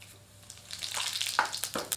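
Whole spices (bay leaves, cinnamon stick, stone flower and shahi jeera) dropped into hot oil, a crackling sizzle that builds and stays steady and close.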